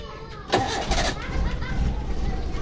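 A Suzuki Espass car converted to run on LPG cranks and starts, its engine catching abruptly and settling into a steady, close idle with a low rumbling hum.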